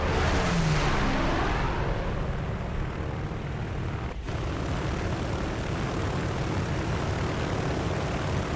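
Fighter aircraft engines from the War Thunder historical campaign, with Yorktown fighters in flight: a loud, steady propeller drone that fills the whole stretch, with a momentary dip near the middle.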